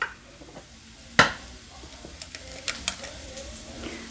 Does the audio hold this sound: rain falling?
no